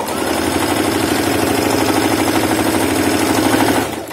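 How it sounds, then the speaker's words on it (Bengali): A sewing machine stitches two layers of fabric for a baby frock, a loud close rapid mechanical clatter running steadily, then slowing and stopping just before the end. "সাইড দিয়ে এবং ওই সাইড দিয়ে কিন্তু আমি এবার সেলাই করে দেব"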